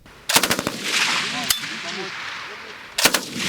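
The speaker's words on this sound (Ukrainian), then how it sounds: "Ще одна група бійців опановує навички ефективного ведення вогню з кулеметів" Machine guns fire in short bursts during National Guard training, heard as a loud burst of rapid shots, a single sharp crack, a stretch of outdoor echo with a faint distant voice, then another burst at the end.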